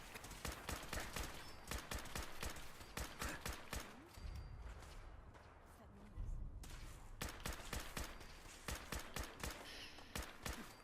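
Rapid gunfire in Fallout 4 with a favoured weapon, with dense, sharp repeated shots rattling in fast bursts, a short pause near the middle before the firing resumes, loud and continuous.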